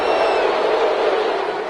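A packed virtual stadium crowd in the Madden 21 football video game roars in a steady, loud wash of cheering and shouting that holds without a break.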